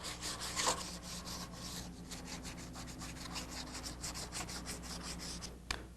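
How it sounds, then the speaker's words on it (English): 220-grit sandpaper rubs lightly over auto body primer ahead of filler, a quiet steady scratchy hiss with a sharper scrape or two and no talk. "We're just going to lightly sand with 220 grit sandpaper here."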